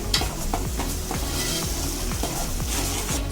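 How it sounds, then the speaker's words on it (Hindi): Onions sautéing in a pan, with a constant close sizzle and repeated rhythmic spatula scrapes stirring them, no voices. "अब इसको थोड़ा सा भूनेंगे हम प्याज को।"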